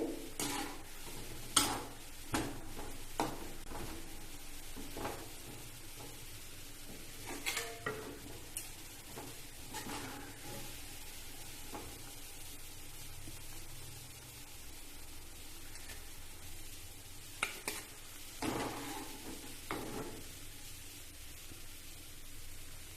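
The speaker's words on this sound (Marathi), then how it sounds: "तर हे बांबोळे आता तळून झाले ते आता मी काढून घेते" Cardamom banana fritters fry in hot oil with a steady low sizzle while a utensil scrapes and clinks in the pan in scattered taps as they are lifted out, close and without talk.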